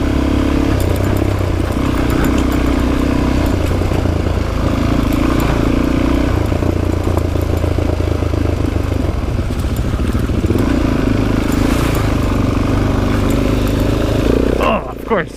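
A motorcycle engine runs steadily as it rides along the Canaan Loop forest road near Parsons, West Virginia, with loud continuous engine drone and wind, and a rider talks over it throughout.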